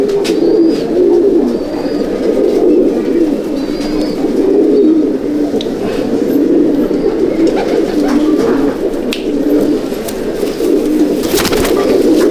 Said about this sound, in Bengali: মালওয়াই পায়রা কাকে বলে তাকে দেখাচ্ছি